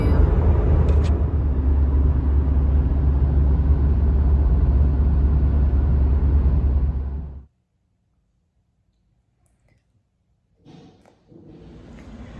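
Steady low-frequency engine and road rumble fills a car cabin while driving, loud and continuous for about seven seconds, then cuts to near silence before faint rustling and the drone returns briefly near the end.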